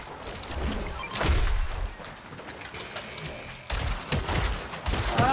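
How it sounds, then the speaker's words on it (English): Bursts of gunfire from the video game Fortnite crack out in rapid, uneven volleys, loud and close, with broadband impacts and thuds layered over a busy game mix. "My bad, shouldn't have shot."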